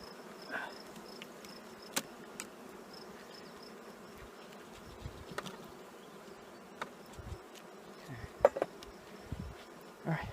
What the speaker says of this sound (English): There's a bunch of bees on the side of this.